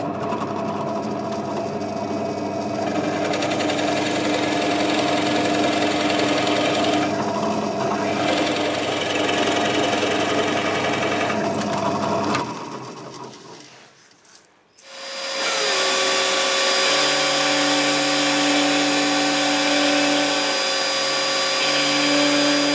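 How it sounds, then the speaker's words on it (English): A power tool drilling and routing a small neck pocket into a wooden guitar body, a loud sustained whine that cuts out, pauses near silence, then restarts at a higher steady pitch, close and continuous. "we drilled down a very small bit and routed out a very small neck pocket there"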